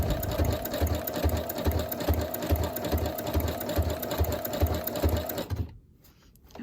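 A sewing machine stitching in fast, even rhythmic pulses with a mechanical whir, close and loud, stopping abruptly near the end and leaving near silence.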